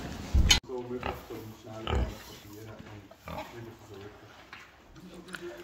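Pigs grunt in short bursts at a farm during handling practice ahead of on-farm slaughter, with people talking over and between the animal sounds.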